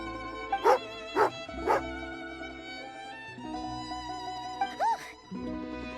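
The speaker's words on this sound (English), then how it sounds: "Angry doggy." An angry dog in the Genshin Impact video game gives three sharp, loud barks in quick succession, then a pair of higher yips over a steady musical background.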